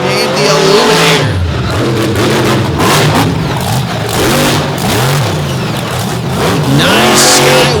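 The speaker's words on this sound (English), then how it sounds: "Nice sky wheelie for the big Oldsmobile-powered Ford out of Frederick." An Oldsmobile-powered Ford pulling truck roars at full throttle throughout, a loud, sustained engine note with rising and falling revs as it pulls hard, with an announcer's voice riding over the din.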